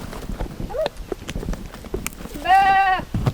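Sheep being herded along a fence, with one clear bleat rising near the end amid scattered rustling and footsteps, while people call and talk encouragingly nearby.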